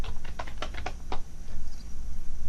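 Rapid clatter of computer keyboard keys as a spreadsheet formula is typed in Excel, a burst of close, crisp keystrokes over steady background hum, then a pause before faint further taps.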